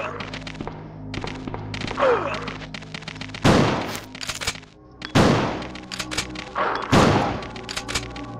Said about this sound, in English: 6 pistol shots.